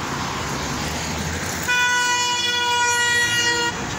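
A car on a road passing close during roadside truck spotting, a steady engine and road rumble that swells, then a loud sustained horn blast lasting about two seconds.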